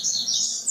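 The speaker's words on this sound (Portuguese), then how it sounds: "acho que tem um passarinho aí que tá com tudo aí" A small bird chirps right beside a microphone, a bright high twittering that runs continuously for under a second, close and fairly loud with no speech.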